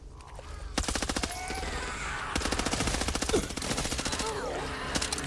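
Rapid automatic assault rifle fire in the zombie shooter game Back 4 Blood, loud close bursts of fast repeated shots with brief pauses between them over a busy game soundscape.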